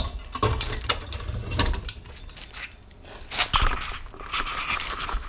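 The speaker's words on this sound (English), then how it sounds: "we can insert the bike rack into the hitch socket" A metal bike rack is pushed into the hitch socket of a 2018 Toyota Highlander, giving a series of scraping clanks and metallic knocks that are close by and irregular, with no talking.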